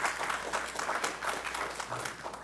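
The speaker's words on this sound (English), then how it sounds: "If you guys can give him a round of applause." A round of applause for a councilman arriving at a mental health awareness gathering, dense steady clapping from a crowd with no gaps, moderately loud throughout.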